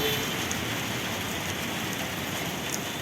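Steady rain falls in a village, a dense, even patter across surfaces that continues unbroken with no talking.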